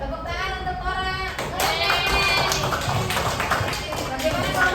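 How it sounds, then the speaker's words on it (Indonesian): Students in a classroom give a short round of applause for a classmate, a dense patter of claps rising after a moment under the teacher's ongoing speech. "Tepuk tangan untuk orang."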